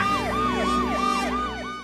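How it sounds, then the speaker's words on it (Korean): A 119 ambulance siren in Korea wails in a steady, rapidly repeating up-and-down pattern, loud and close, heard alone with traffic rumble beneath. "119 구급차의 사이렌 소리에 차들이 길을 열어준 건데요"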